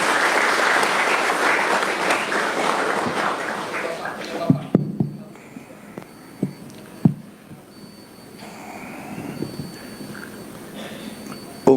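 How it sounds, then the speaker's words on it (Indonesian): Crowd applause for the Indonesian President at a school visit in Tabanan, Bali, loud at first then thinning to scattered claps and a few sharp thumps amid quieter room noise. "Tepuk tangan untuk Bapak Presiden."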